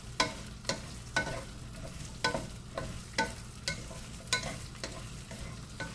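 Okra being stirred in hot oil in a pan, a sharp scrape of the spoon recurring about every half second over a soft, steady sizzle.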